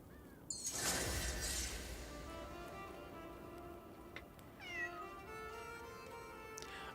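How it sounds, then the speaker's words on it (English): A cat meows in the Crimson Desert video game, with a couple of short mews standing clear over a quiet ambient game background, fairly near and alone without talk. "I just heard a cat meow"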